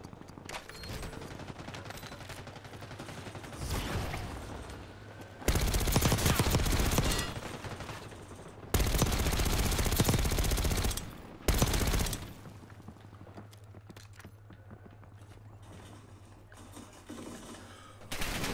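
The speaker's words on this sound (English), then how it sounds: "I shot him with a shotgun and he wouldn't die?" Shotgun and other gunfire in the video game Call of Duty, dense bursts of shots and loud sustained volleys that rise and fall over continuous game noise.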